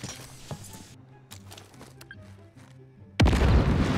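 A C4 charge detonated through a security camera in Warzone goes off as a sudden, loud, close boom, ending a stretch of quieter game sounds and rolling on in a heavy, sustained roar.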